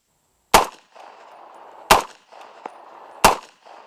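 A Walker Defense Nero rifle in 7.62x39 fitted with a 3D-printed muzzle brake fires three sharp, loud single shots about a second and a half apart, each with a brief ringing tail, on an outdoor range.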